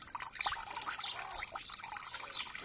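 Water splashes and trickles steadily while a pet parrot is bathed, a close, continuous wet dribbling and dripping with small splashy bursts throughout.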